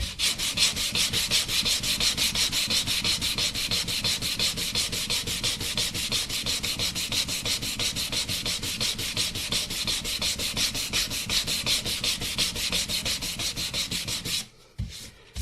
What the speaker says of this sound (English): we'll get the little finer grit sandpaper